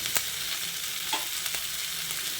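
Mixed vegetable curry with sugar being stirred in a frying pan, a faint, soft sizzle with a few light scraping strokes of the spoon, quiet and close.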